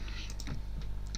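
Quick light clicks of fingers typing on a computer keyboard, a short burst of several keystrokes heard close up.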